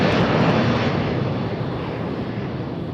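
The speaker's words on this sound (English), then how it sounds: "These planes are so loud." Cargo jets roar at Louisville's UPS World Port airfield, a loud, steady broadband engine rumble that fades slightly over the few seconds, with no voices.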